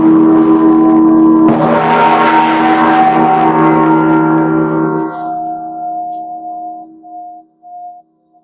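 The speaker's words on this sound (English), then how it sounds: "we're gonna go live at Instagram while we're ringing this gong" A gong rings with a bright, shimmering strike that swells and then hangs in a long, humming tonal decay, fading slowly over several seconds until only a faint, wavering hum remains.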